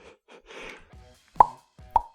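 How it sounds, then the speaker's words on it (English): Two sharp, quick pops ring out close and loud, spaced about half a second apart, each with a short tonal ring, after some soft handling noises. "Quick pop."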